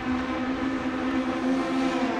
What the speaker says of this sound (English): This is great racing from the pickup trucks.